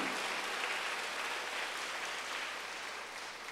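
A church congregation gives quiet, distant applause, a soft, steady patter of clapping that continues evenly throughout and fades slightly at the end.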